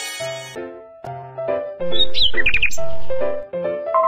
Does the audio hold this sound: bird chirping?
yes